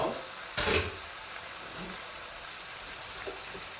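Tuna pieces frying in a covered pan, a soft, steady sizzle with a brief louder crackle near the start and a few faint pops after it.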